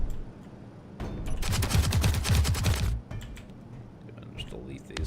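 Interior turret in Space Engineers firing a loud rapid automatic burst for about two seconds, then cutting off, with someone talking over the shooting and afterward.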